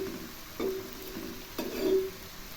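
Data shak, amaranth stems, cooks down in oil until the water dries off, making a faint, steady sizzle with a few soft stirring scrapes, close by and without talk.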